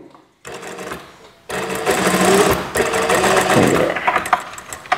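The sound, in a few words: sewing machine stitching fabric for drawstring shorts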